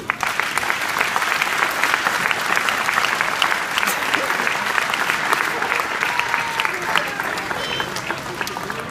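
Dense, steady applause from an audience at a celebration honouring a judo athlete fills the whole stretch, loud and close, with the sound of many hands blending into a continuous wash.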